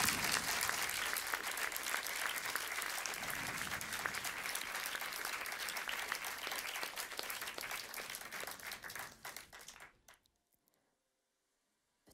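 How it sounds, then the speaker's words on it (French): A live concert audience gives loud, sustained applause for a Breton harpist-singer and her musicians, dense clapping running steadily for about ten seconds before cutting off into near silence. "je voudrais qu'on applaudisse très fort"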